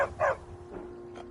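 A dog in the video game Skyrim gives a couple of short, sharp yips close by, followed by a softer, fainter whimpering call.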